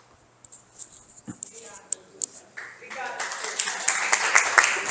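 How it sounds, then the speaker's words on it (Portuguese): Audience clapping at a spiritist study class, starting with a few scattered claps and building into fuller applause over a few seconds, with some low voice sound underneath. "As palmas é para ele lá em cima"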